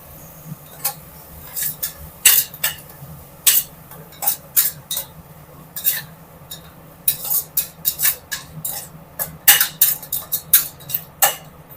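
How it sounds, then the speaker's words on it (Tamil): A metal spoon clinking repeatedly against a pot while spices and curd are stirred together for mushroom biryani, sharp irregular taps spread over several seconds at a close, moderate level, with no one talking. "இது எல்லாத்தையும் நல்லா கலந்தாச்சு"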